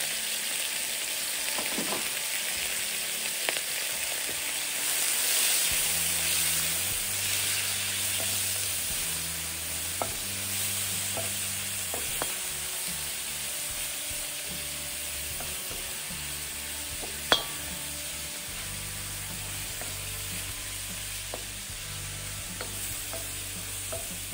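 Constant hissing sizzle of seasoned black tiger shrimp tails frying in a hot pan, with occasional clicks and low humming underneath, no voices.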